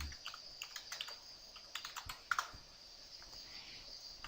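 Soft, quick clicks of typing on an on-screen keyboard patter unevenly, a few keystrokes sharper than the rest, with no one talking.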